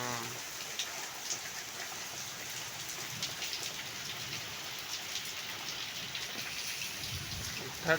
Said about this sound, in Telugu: పిచ్చి వాన కురుస్తుంది